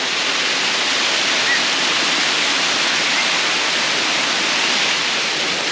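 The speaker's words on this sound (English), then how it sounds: "made it down to the base of the waterfall" Waterfall in the Southern Forests of Western Australia, heard from its base: a continuous broadband rushing roar of falling water, steady, close and loud, with no other sounds.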